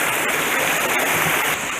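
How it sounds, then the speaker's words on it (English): Waterfall in Chautauqua Gorge, a steady close rushing roar of falling water with no talk. "I think we found our the waterfall that is our turnaround point"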